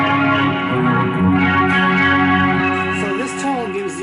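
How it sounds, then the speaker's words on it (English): Electric guitar through a Leslie rotary speaker effect on a BOSS eBand JS, played with a white cream Les Paul, ringing sustained chords with a swirling, wavering modulation, loud and close, with no talking. "The Leslie rotary pedal, and it sounds just like this"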